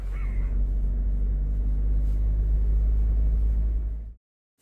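A van engine rumbles steadily while driving, a deep continuous drone with a brief higher tone early on, holding even for about four seconds before cutting off abruptly.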